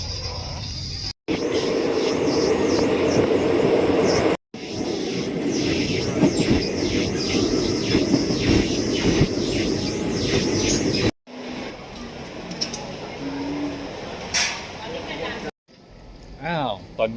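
Loud rumbling of a moving train with rhythmic clatter, heard from close by in several cuts, with people talking in places, on a journey from Thailand to Padang Besar.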